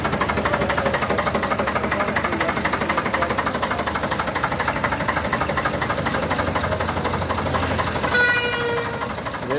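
A 1980 Ford 4600 tractor engine runs steadily at close range, a continuous even diesel rumble with a rhythmic knock that holds throughout without pause.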